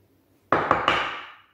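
A tablespoon knocks about inside a jar of smoked paprika: three quick, close knocks in a row, each ringing out briefly before the last fades away.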